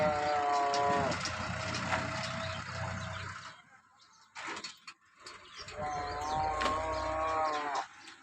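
A healthy dairy cow in a farmyard gives two long, loud, close moos separated by a short pause filled with a few softer rustles and thumps.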